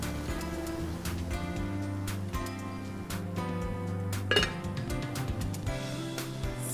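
Poha being stirred and mixed with coriander leaves in a pan, a steady run of light scraping and clinking of a utensil against the metal with a few sharper knocks, continuous and close, with no talk.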